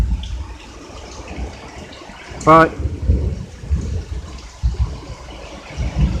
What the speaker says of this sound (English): We're dealing with a severe thunderstorm,